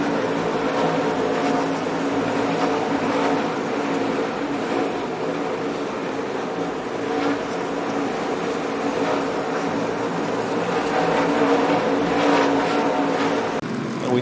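NASCAR Craftsman Truck Series race trucks roaring around North Wilkesboro Speedway, a dense sustained engine drone that swells and fades as the pack passes, loud and continuous.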